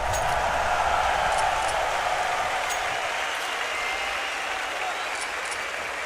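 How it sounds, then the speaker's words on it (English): Large arena crowd at the PGL Major Kraków 2017 CS:GO quarter-final, a loud steady roar of cheering and applause filling the hall, continuous and even throughout with occasional sharper shouts. "Just listen to that crowd."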